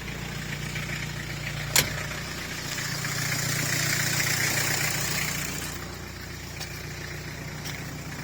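Engine of a slightly rusty Ford Fairmont AU running with a steady low idle hum, a single sharp knock early on and faint clicks later, the note swelling slightly mid-way before settling back.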